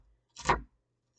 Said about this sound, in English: banged it down, and then chopped it.